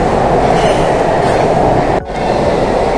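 Underwater metro train pulling into Howrah station in Kolkata, a loud, steady rumble of wheels and carriage noise filling the platform, with a brief dip in the din before it resumes.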